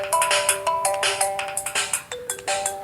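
A mobile phone ringtone plays alone, a bright repeating electronic melody of short tonal notes that rises and falls in a steady looping rhythm, fairly loud and close, with no talking over it.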